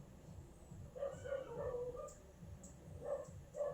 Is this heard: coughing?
no